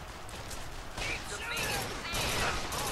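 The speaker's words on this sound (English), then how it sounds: "Oh, it's a burst gun." Burst gun firing in the video game BioShock Infinite, several clustered shots and impacts at a fairly low level amid busy game noise.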